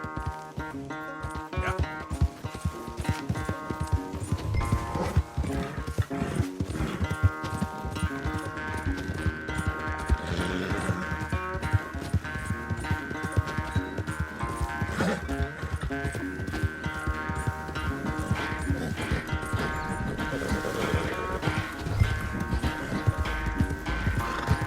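Horses gallop in a race in the Red Dead Redemption 2 video game, their rapid, continuous hoofbeats pounding close and loud for the whole stretch, with a sustained tonal backdrop and an occasional whinny.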